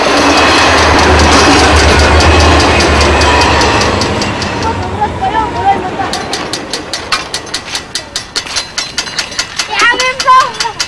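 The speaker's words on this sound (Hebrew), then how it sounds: "כל 5 דקות רכבת." A train rolls past close by on railway tracks with a loud, sustained rumble that fades, followed by a series of rhythmic clacks of wheels over rail joints.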